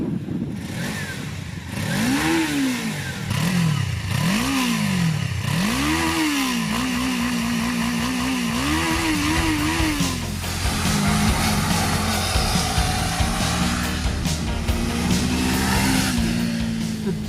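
A Suzuki GSX 250R parallel-twin motorcycle engine revs repeatedly, rising and falling in a series of quick blips, then settles into a steadier higher drone, close and loud.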